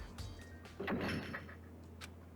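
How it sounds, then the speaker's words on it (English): A sliding door to a data center shuts in the Danganronpa video game, a brief mechanical whoosh and thud near the middle over a low steady game hum. "As soon as the door to the data center was closed, I heard a strange sound."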